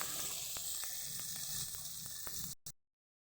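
Vegetable oil with a little ghee sizzling in a pan for frying vegetables: a steady, fairly faint hiss with light regular ticks, cutting off abruptly near the end, no talk.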